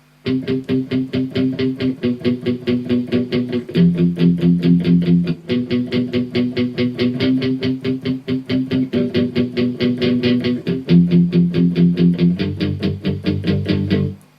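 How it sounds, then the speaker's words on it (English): Chunky distorted electric guitar power chords chug in a steady palm-muted rhythm, loud and continuous, shifting between a couple of chord positions. "just some basic power chords and a lot of palm muting"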